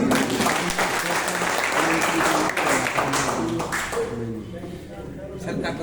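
An audience claps loudly and continuously for gold achievers at an awards gathering. The dense applause fills most of the clip and thins out near the end.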